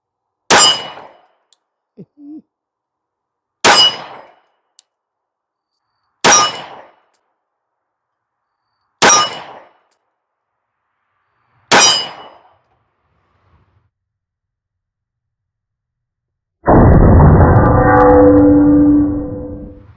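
Five evenly spaced .45 ACP handgun shots, Blazer 230 grain FMJ, each a sharp crack with a ringing clang off a steel target, followed by a short pause and then a burst of loud broadband noise.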